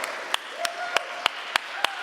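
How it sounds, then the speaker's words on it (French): Applause from a gala audience recognizing engaged parents forms a steady wash of clapping, with sharp, evenly spaced claps standing out, under faint voices. "Une bonne main d'applaudissements pour son énergie extraordinaire."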